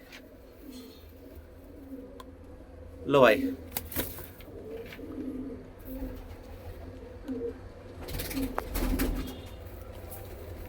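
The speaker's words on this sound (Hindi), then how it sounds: "बढ़िया वाले कबूतर है, एक नंबर के कबूतर, क्वालिटी के हैं इंशाल्लाह" Pigeons coo softly in short, low phrases amid faint rustling and a louder flutter, with someone talking over them at moderate distance.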